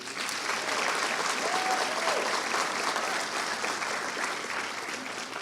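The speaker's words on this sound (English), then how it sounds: "Students, please give your family and other loved ones a round of applause" An audience at the Gulf Coast State College 2019 graduation ceremony applauds steadily, a dense, even wash of clapping that holds loud throughout.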